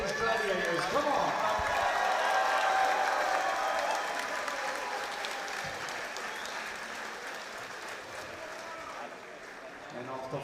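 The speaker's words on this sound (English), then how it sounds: "let's have a huge round of applause for these gladiators" A crowd at a Muay Thai title fight applauds and cheers loudly and continuously, the clapping slowly thinning toward the end as an announcer's voice carries over it.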